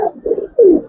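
A male Giribaz pigeon gives a short series of low, throaty coos at close range, three soft rolling notes with the last one loudest.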